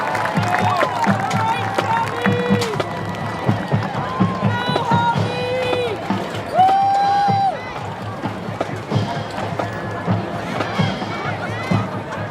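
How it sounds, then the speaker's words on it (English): Audience applause and cheering for the Salesianum High School Marching Band at a high school marching band event: a dense, steady wash of clapping and crowd noise, with shrill whistles rising above it throughout. "let's give a round of applause for the Salesianum High School Marching Band"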